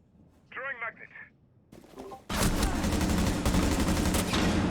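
Rapid bursts of Rainbow Six Siege gunfire erupt loudly and continuously after a short electronic tone and some brief sounds, dense and close.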